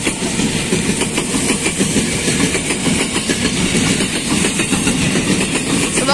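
Commuter train 6033 pulls out of Depok station, loud and close, with a continuous rumbling roar and a steady rhythmic clatter of wheels over rail joints, no talk.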